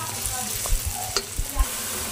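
Onions frying in a pan until light brown for a vegetable pulao, a soft steady sizzle with a few brief stirring scrapes, close and fairly quiet, no talking.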